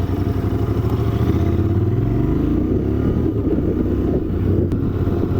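Motorcycle engine, apparently a Triumph Bonneville or a Royal Enfield, running steadily while riding, a loud, close, smooth rumble that rises slightly in pitch as it gains speed, with no talk.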